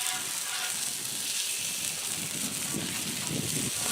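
Honey-lime pork chops sizzle steadily in a hot pan, a continuous close, bright frying hiss that holds without a break and has no talk over it.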